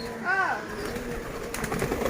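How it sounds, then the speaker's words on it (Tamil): Pigeons coo inside a newly built racing pigeon loft, one clear rolling coo near the start over busy room noise and rustling, with someone talking throughout. "இந்த பாருங்க நிறைய புறா பறந்துட்டு இருக்கு"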